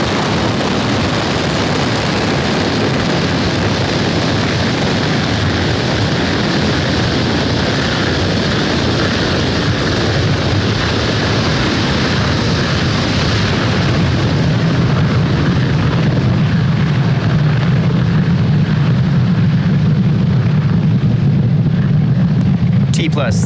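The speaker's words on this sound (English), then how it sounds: "Falcon 9 has successfully lifted off from Pad 40 at Cape Canaveral Space Force Station" SpaceX Falcon 9 rocket with nine Merlin engines lifting off from Pad 40 at Cape Canaveral Space Force Station, a loud, continuous crackling roar that stays steady throughout.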